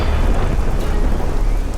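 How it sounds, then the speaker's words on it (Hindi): A thunderstorm at night, with steady loud rain and wind filling the whole stretch in a dense continuous rumble; no separate sharp crack of thunder stands out, and no voices are heard. "उस आवाज के इतना कहते ही बिजली कड़की, हवा के एक तेज झोंके से खिड़की खुली और रमेश का ड्रिंक वाला ग्लास फर्श पे गिर के"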